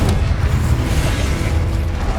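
Incendio fire spell in Hogwarts Legacy, a steady rumbling burst of flame with low booming energy, loud and close, and no voice on top.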